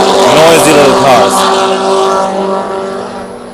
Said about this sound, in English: Noisy little cars.